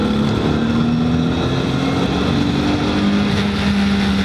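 A Nissan 300ZX twin-turbo engine pulls hard toward high RPM, a loud, close, steady droning roar with a tone that climbs gradually and unbroken throughout.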